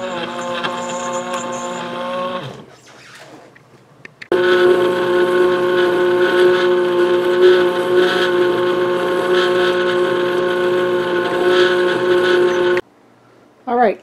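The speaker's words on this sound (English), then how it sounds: "It sounds like this soup is liquidy now by the way the blade sounds when it's spinning." Blade of a Philips soup maker spinning through butternut squash soup, a steady loud whirring hum with strong harmonic tone for about eight seconds, then stopping abruptly; a quieter stretch precedes it.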